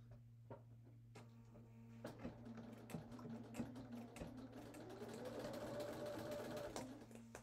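A sewing machine stitches fabric for a Japanese komebukuro rice bag, close by: a few sharp clicks and taps, then the motor whirs steadily for several seconds, rising in speed toward the end over a constant low hum, with no talking.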